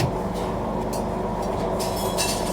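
The Love Express luxury tourist train runs while heard from inside its pantry car: a loud, continuous rumble with rhythmic wheel clatter and a steady rattle throughout.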